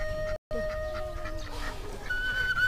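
Ducks quack on a farm in a few close, nasal calls over a quiet rural background, broken by a short silent gap.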